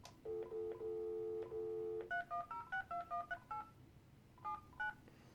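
Telephone dialing tones beep in a quick series: a few longer low tone pairs, then a rapid run of short keypad beeps, a pause, and three more beeps, clear and alone.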